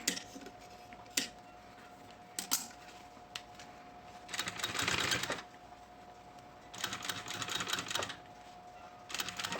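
An industrial straight sewing machine stitches a synthetic-material pencil case in short bursts of rapid mechanical clatter, separated by isolated clicks and quieter pauses.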